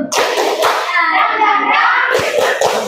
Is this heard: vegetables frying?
no